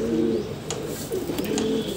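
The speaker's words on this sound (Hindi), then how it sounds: "तो दोस्तों इतने दिनों के बाद दोस्तों एक जंगली कबूतर पकड़े हमने" A captured wild pigeon coos close by in soft, low, throaty murmurs, repeating in short rolling phrases with a few faint chirps in the background.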